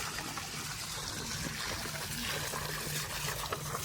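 Water trickles steadily while trees are watered in the morning, a soft continuous flow running on its own at a low, even level throughout.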